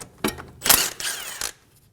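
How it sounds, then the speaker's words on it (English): A 14mm socket on a ratchet backs out the brake line bolt at the front steering knuckle of a 2008-2015 Scion xB, giving a few short close mechanical clicks and rattles with a quick burst in the middle. "Using a 14mm socket, remove the bolt for the brake line."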